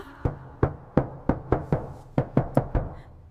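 Someone raps on a door with a series of sharp, evenly spaced knocks, about ten in quick succession, close and distinct with no other sound.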